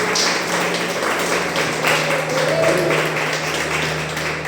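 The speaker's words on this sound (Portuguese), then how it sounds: "Você pode aplaudir Jesus por isso?" A church congregation applauds during a worship service, with continuous crowd clapping over a low steady hum in the room.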